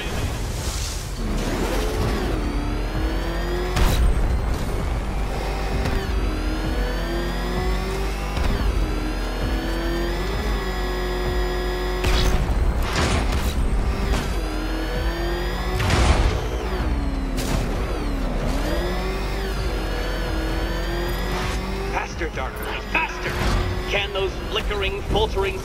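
Batmobile engine from Batman: Arkham Knight, revving steadily under ongoing music and game dialogue, with sharp bursts and crashing impacts scattered throughout.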